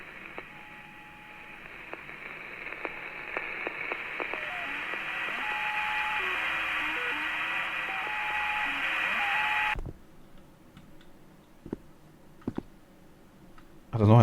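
Radio static in the video game NOISE: a steady hiss of noise with scattered clicks and tonal beeps, cutting off abruptly near the end and leaving only faint isolated clicks.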